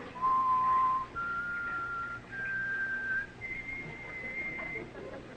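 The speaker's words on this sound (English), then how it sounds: "I'm going to whistle like this." A person whistles four sustained clear notes, each stepping higher in pitch with short gaps between them, close and fairly loud over a faint background hum, in a classic television comedy sketch.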